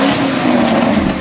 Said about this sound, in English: this is his 2021 BMW X5 M50i